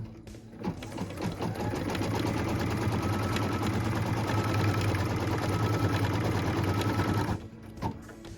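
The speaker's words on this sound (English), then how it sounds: "What we're stitching now is the tack down line for piece number 6." An embroidery machine stitches the tack-down line of a zipper pouch, a steady close mechanical whir with rapid rhythmic needle clatter that runs for several seconds and then stops.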